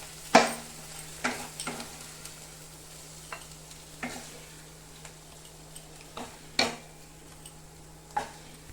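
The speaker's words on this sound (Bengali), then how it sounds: "এখন আমি একটু ভেজে নামিয়ে দেবো" Stuffing filling for kakrol (spiny gourd) frying in a pan on a gas stove, a soft continuous sizzle punctuated by sharp, irregular clinks and scrapes of a spatula against the pan.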